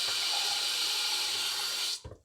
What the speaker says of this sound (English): I'm just going to use tap water because my tap water's quite cold.